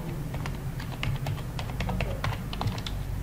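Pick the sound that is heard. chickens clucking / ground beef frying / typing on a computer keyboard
typing on a computer keyboard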